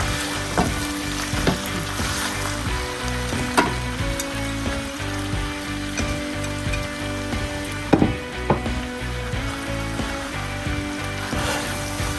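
A sauce for peppered cowskin and cowfeet fries in a pan on low heat, giving a steady loud sizzle with intermittent stirring clatters and scrapes close by.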